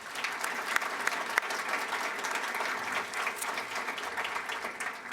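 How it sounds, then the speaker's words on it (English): Audience applause at a 2014 student awards ceremony, steady dense clapping sustained throughout, moderately distant with occasional sharper individual claps. "Please join me in a round of applause"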